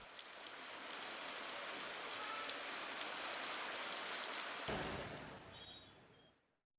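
Heavy rain falls with cold wind in a steady, dense, close hiss that holds for several seconds, shifts in tone partway through and then fades out, with no voices.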